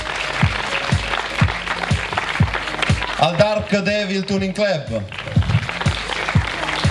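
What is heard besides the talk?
applause for the tuning clubs at a motor festival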